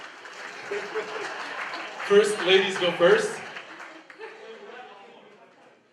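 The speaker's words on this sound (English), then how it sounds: "Your warm applause again, please." An audience claps warmly at a presentation night in South Korea, a burst of applause rising and fading while a host speaks over it.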